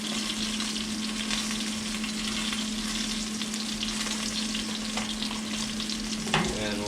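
Seasoned okra frying in a pan, with a steady, dense sizzle running throughout while it is stirred. A scrape of the utensil near the end stands out, loud and close, with no voices.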